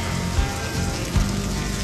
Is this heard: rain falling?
yes